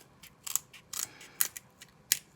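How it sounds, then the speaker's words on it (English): Scissors snip through sticks in several sharp, separate cuts spaced irregularly. The crisp snaps are close and clear against a quiet background. "by cutting these sticks, you will ruin your good scissors"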